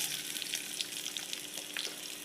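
Onion sizzles in hot oil in a pan while being fried toward golden, a steady, fairly quiet crackle with brief bursts of spitting.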